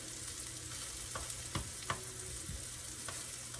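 Potato pancakes sizzle steadily in a frying pan, a constant close crackle with a few soft clinks and thumps as they are turned.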